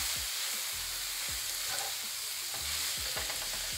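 Stuffed pepper filling seasoned with cayenne, paprika and pepper being stirred in a hot pan, a steady broadband sizzle under repeated scraping strokes of a utensil, close and continuous with no voices.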